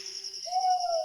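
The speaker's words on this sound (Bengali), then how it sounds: "শুধু পেঁচার ডাক শোনা যাচ্ছে।" An owl hoots once at night in a cold, silent rural setting. The call is a faint, drawn-out note that rises over a thin, constant chirr of crickets.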